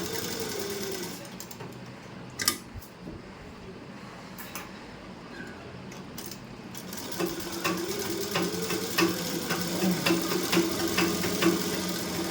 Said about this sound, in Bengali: প্রথমে এই দাগের কোলে কোলে কোনো করে সেলাই মারলাম।